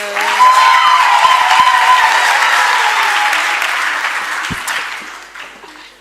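Sustained applause from a graduation ceremony audience, loud and dense from the start, with a brief whistle-like tone near the beginning, gradually thinning and fading over the last second.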